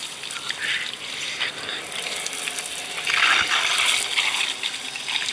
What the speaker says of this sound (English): it is only a tempered shower